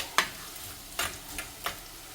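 Onions sautéing in a pan for a small fish curry, with four separate scraping stirs of a spatula at uneven intervals over a faint, low sizzle.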